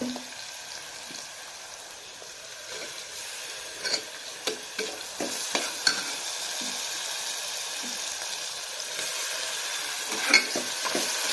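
Onions frying in a pan and being stirred until lightly browned for a chicken gravy: a continuous sizzle with repeated scraping and tapping strokes of a spoon against the pan, close and alone.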